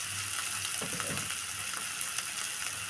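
Water hits a hot pan of lightly browned ragi mudde mixture and sets off a steady, close frying sizzle. The hiss holds evenly throughout, with faint scraping stirs underneath.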